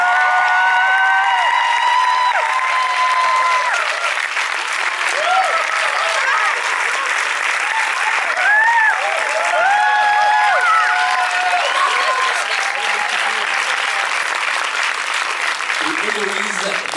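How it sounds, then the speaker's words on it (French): A packed audience at a French film premiere applauds and cheers loudly and continuously, with whoops and shouted voices rising over the sustained clapping. "Je vous demande énormément d'applaudissements pour Tamara dans le film, Héloïse Martin."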